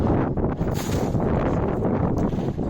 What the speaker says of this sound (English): As you can see, this day was pretty windy.